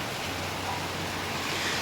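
Heavy rain pours at a construction site during wall plastering work, a dense, steady hiss of falling water that stays loud and unbroken throughout, with no talking.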